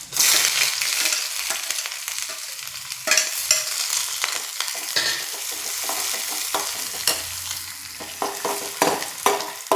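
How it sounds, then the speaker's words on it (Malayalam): Chopped onions hit hot coconut oil with mustard seeds and fenugreek for a buttermilk curry, giving a loud, crackling sizzle up close with spatula scrapes and sharp pops throughout. "അരിഞ്ഞ് വെച്ചേക്കുന്ന ഉള്ളി ഇട്ട് കൊടുക്കാം."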